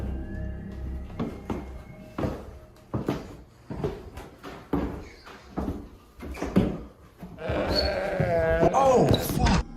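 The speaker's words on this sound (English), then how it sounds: "It legitimately sounded like there was a goat in the house." Goat-like bleating rises near the end, a loud wavering cry following several sharp knocks and thumps, with people talking nearby.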